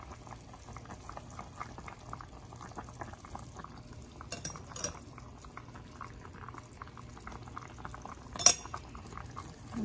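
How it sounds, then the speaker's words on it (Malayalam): King fish head curry simmering in a pot gives a quiet, steady bubbling, with a couple of brief metallic clinks from a utensil against the pot. "ദിസ് ഇസ് അവർ മീൻ തല തിളച്ചോണ്ടിരിക്കുന്നു"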